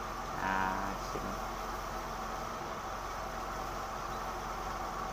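A Suzuki Katana motorcycle engine idling at close range, a steady low drone that holds throughout with a brief swell near the start as the revs climb while the engine warms.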